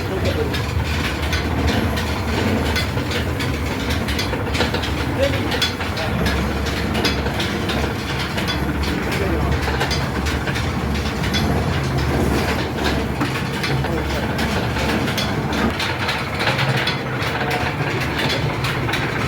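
An oil expeller presses mustard seed cake at a mustard oil mill, giving a loud, unbroken mechanical rumble with a rhythmic clattering, ratcheting beat throughout.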